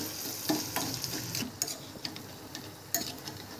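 Anarsa sweets fry in ghee over a medium gas flame, giving a soft continuous sizzle with scattered light crackles and occasional clicks, fairly quiet and without any voices.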